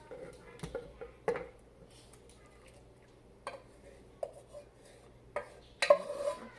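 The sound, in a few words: sliced potatoes arranged in a buttered baking dish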